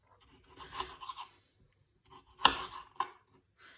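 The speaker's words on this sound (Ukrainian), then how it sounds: "Нарізаємо помідор. Так само кубиками невеликими." A knife chops a tomato into small cubes on a cutting board, giving a few soft, quiet taps and cuts spaced irregularly, one sharper knock standing out.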